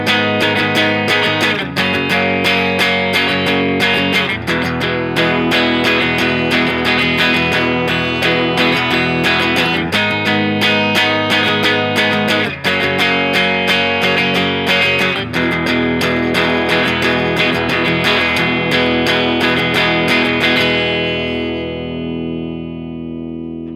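Electric guitar with distortion and effects strums a repeating chord progression, loud and continuous, with the last chord left to ring and fade.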